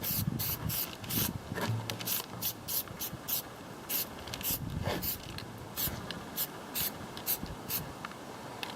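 Plasti Dip sprays from an aerosol can onto a Ford F150 truck in repeated short hissing bursts with brief pauses between them, close and fairly quiet.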